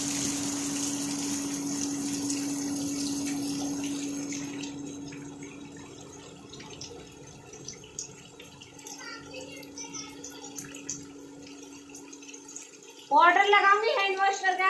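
Water runs steadily with a constant hum and splashing, followed near the end by a short burst of louder gushing.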